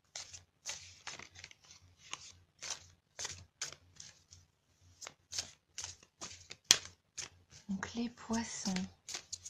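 Tarot cards are shuffled and drawn with quick, crisp flicking and riffling strokes in short bursts, close and soft, while someone speaks quietly over them.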